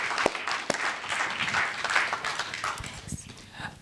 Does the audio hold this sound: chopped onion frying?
no